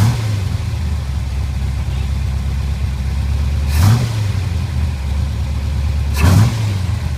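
A truck engine idles steadily, then revs briefly twice as the gas is tapped, each rise short and close before settling back to a low rumble.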